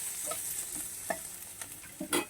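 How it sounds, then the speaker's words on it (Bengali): Kashmiri red chili powder frying with half-fried onion in a kadai, with a steady soft sizzle and a few stirring scrapes, the loudest one near the end. "একটু পেঁয়াজের সাথে ভেজে নেব।"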